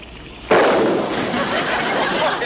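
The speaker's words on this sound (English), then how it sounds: "what was that explosion?" A sudden explosion bursts out and leaves a loud, sustained roaring rumble that fills the rest of the moment, with no voices over it.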